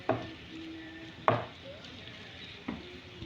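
Béchamel pasta being stirred and mixed in a pan, with three distinct scraping strokes of a utensil against the pan spread over a soft, steady background hiss.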